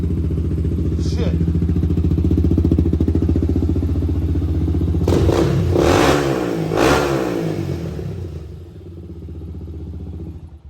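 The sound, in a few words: Honda ATC three-wheeler with 400EX big bore engine revving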